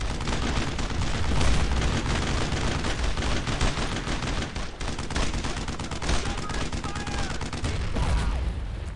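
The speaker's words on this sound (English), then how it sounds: "Hopefully that tank's not shooting at us." Tank fire and combat in Brothers in Arms: Road to Hill 30 at Vierville, a dense, loud barrage of gunfire and heavy blasts filling the whole stretch with rapid cracks and booms.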